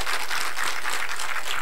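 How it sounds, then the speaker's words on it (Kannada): An audience at a live comedy show in Yalahanka claps in a loud, steady burst of applause, continuous and unaccompanied by talk. "ಒಂದು ಜೋರಾದ ಚಪ್ಪಾಳೆ ಇರಲಿ ಪ್ರಾಣೇಶ್ವರಿಗೆ"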